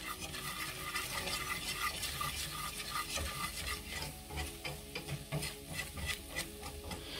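Onions sautéing in butter in a pan for Russian pierogi, stirred steadily, with a continuous close sizzle and scraping strokes throughout, no talking.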